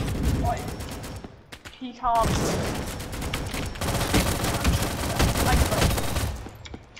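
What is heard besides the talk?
P90 rapid-fire gunfire in video game Recoil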